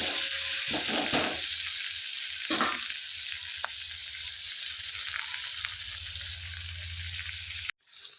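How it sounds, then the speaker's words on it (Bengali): Winter vegetables and turmeric sizzle steadily in hot oil in a pan, with a continuous close frying hiss, occasional stirring scrapes and clatters, and a brief abrupt cut near the end. "এটা ভালো করে ভেজে নিতে হবে যাতে হলুদের গন্ধটা না থাকে"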